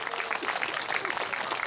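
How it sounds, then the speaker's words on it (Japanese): At a youth rally in Fukushima, an outdoor crowd applauds hula dancers. The clapping is short, dense and moderately loud and holds steady for under two seconds. "フラガールの皆さんにもう一度大きな拍手をお願いします。"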